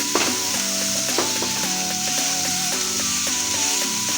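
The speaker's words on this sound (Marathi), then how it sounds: "आणि तेलावर चांगलं परतून घेऊया." Green spice paste sautéing in hot oil for a pea patty filling, a steady close sizzle with a few scraping stirs of a spoon against the pan.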